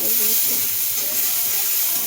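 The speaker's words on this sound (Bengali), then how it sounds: "আমি রসুনের তড়কা মারতেছি" Garlic sizzling in hot oil as a tempering for a cauliflower, potato, carrot and fish curry, a close, steady crackling hiss under brief talking.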